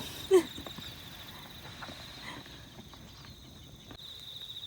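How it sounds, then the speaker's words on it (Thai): Crickets in a rice field keep up a faint, continuous high-pitched trill, with a brief soft thump near the start and quiet background rustling. "จิ้งหรีดเพียบเลยค่ะ"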